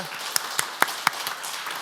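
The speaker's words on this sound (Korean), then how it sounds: "은혜로운 말씀을 전해주신 목사님께 감사의 박수를 드리겠습니다" A church congregation claps in thanks to the pastor after the sermon, sparse and uneven, a few distinct claps rising above a quiet hall with faint background murmur.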